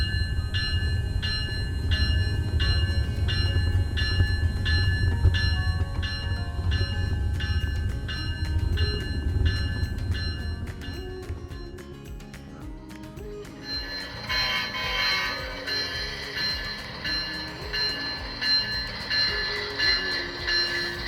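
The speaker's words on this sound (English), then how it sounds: "we wait for our train to make its way around the bend from Green Mountain Falls" A model Amtrak train on a layout rounds a bend, a low rumble of wheels on track under a repeating bell-like ticking that fades, then gives way to softer clattering motion.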